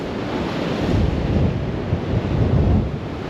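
Rough storm waves pound the Dawlish seafront during Storm Nelson, a loud, continuous roar of surf mixed with heavy wind buffeting the microphone, with no voices.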